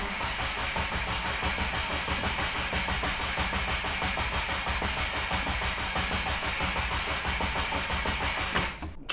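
Subaru WRX engine cranks and catches, then runs at a steady, dense idle close by for several seconds before cutting off abruptly near the end.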